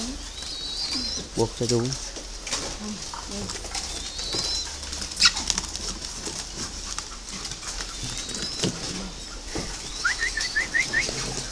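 Spotted doves give soft rhythmic coos amid other birds, with occasional wing flaps and rustling, and someone speaks briefly nearby.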